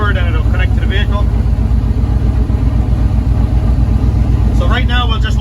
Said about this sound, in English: Like right now we're idling 800 to 1000